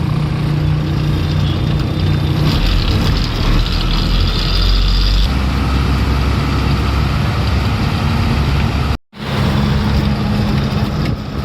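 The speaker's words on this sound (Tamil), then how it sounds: "இந்த பக்கம் எப்படி இருக்கோ அதே மாதிரி அந்த பக்கமும் டிராஃபிக் இருக்கு பாருங்க" Dense road traffic near the Ambur bus stand on a misty morning, with trucks and idling engines making a loud, continuous low rumble that briefly drops out near the end.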